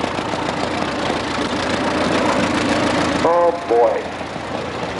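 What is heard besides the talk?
antique Case tractor engine running in a parade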